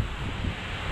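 Strong wind gusting across a high cliff edge, a steady loud roar buffeting the microphone for the whole second, with no voices over it.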